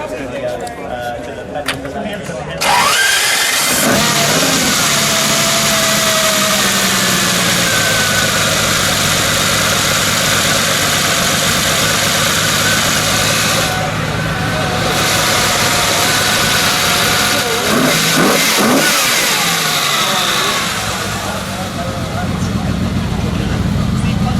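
A 1962 Ferrari 250 GTO's V12 engine idles, then roars up into a loud sustained rev, easing back before climbing again, close by.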